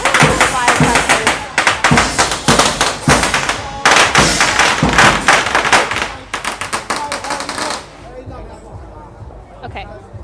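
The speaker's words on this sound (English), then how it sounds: "Firecrackers." A dense barrage of firecrackers bursts close by at a Chinese Spring Festival parade of the gods, loud rapid cracks in long volleys with brief gaps, then fading to scattered pops and quieter background noise.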